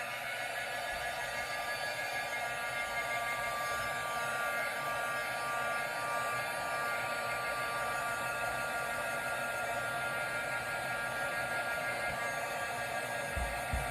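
A hair dryer blows hot air onto a chalk-painted craft piece, a constant loud whining hiss that runs unbroken from start to finish with no voices over it.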